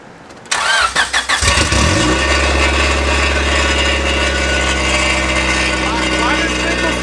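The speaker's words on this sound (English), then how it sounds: "I just wanted to turn it on with just open header, see what it sounds like" A Honda Civic EG's D16 engine with an open header cranks a few times, then catches and settles into a loud, rough, throaty idle that rumbles on steadily.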